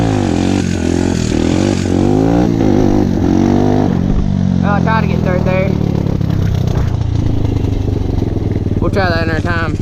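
SSR150R motorcycle engine roaring loud and close while riding, pitch climbing and dropping through gear shifts, with a rider's voice talking over it.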